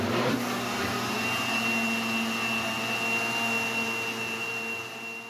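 A mixer or blender beats frozen potato purée with milk, making a steady motor whir with a fixed tonal hum, moderately close, winding down slightly near the end with no speech over it.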